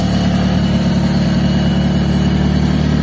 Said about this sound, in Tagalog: umaandar na yung makina natin